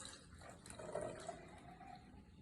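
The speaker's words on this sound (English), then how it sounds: "So first we are going to pour our buttermilk into our containers." Buttermilk poured into containers for a science project gives a soft, brief liquid pour that peaks near the middle, faint under a low, hissy background.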